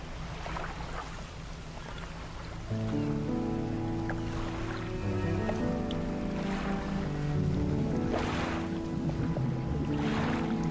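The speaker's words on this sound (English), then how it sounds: "So our boat's pretty slow right now." A slow fishing boat in the video game Dredge chugs across a harbor bay, a low steady engine drone with water lapping and washing around it, continuous and fairly close.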